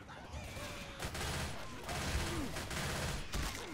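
Rapid bursts of gunfire rattle in the video game Left 4 Dead 2, fairly faint and continuous over a busy background of game sounds.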